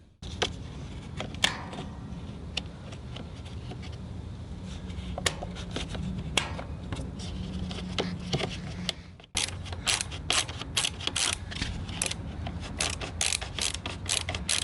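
Screws and washers being fastened as a radiator guard is put back together, a steady run of clicking, ratcheting mechanical ticks and small metallic taps, close up, with a brief break partway.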